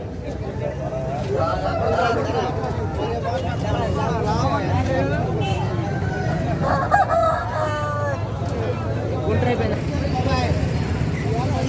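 Roosters crowing amid a busy Sunday country chicken market in Vijayawada, the crows rising over a loud, constant crowd babble and nearby talking voices.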